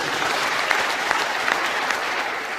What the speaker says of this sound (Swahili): Situpigie Mungu makofi.